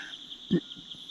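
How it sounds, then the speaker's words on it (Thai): A steady, high-pitched chorus of crickets chirps continuously at night in a forest, with one brief low thump partway through. "ตอนกลางคืนนะฮะก็ได้ยินเสียงจิ้งหรีดร้องนะฮะ"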